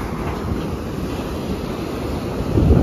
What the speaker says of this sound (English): These waves are really noisy.